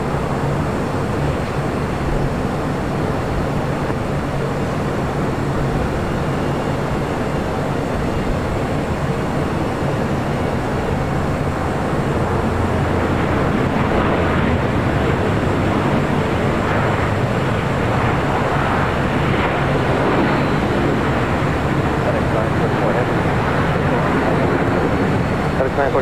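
A Delta 877 airliner taking off from runway 25 right at LAX, a steady loud broadband engine roar that swells in the second half, with radio chatter heard over it.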